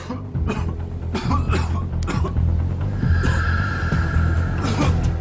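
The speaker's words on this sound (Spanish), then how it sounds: "La tos seca que padece está empeorando." A man with worsening SARS coughs dryly in a hotel room, several short harsh bursts spread across the clip over a low steady background hum.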